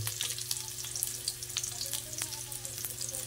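Chopped garlic and onion fry in a hot pan for squid adobo, giving a close, steady sizzle with small crackles and pops. No voice is heard.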